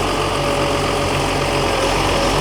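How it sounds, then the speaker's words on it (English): Engine of a 648GIII machine running steadily while the machine is raised up and down, a loud continuous idling drone with a low vibrating hum and no voices. "Again, raising the machine up and down,"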